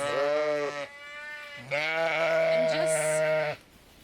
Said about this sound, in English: And just as I settled, I had these lovely sheep came over